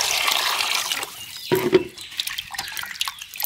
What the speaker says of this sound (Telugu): తెల్లగా కడిగేసుకోండి.